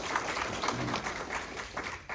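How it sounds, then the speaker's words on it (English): An audience at a self-awareness talk claps briefly, a light patter of hands that rises and falls over a couple of seconds at moderate volume. "Give him applause."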